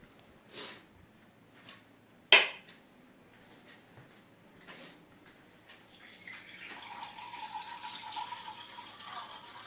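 After a few soft knocks and a sharp click, water pours in a steady, hissing stream, growing fuller for the last several seconds.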